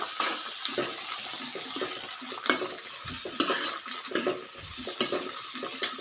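Chutney ingredients fry in a pan in a home kitchen. A soft, continuous sizzle is broken by scraping stirs and a few louder clatters of the spoon against the pan.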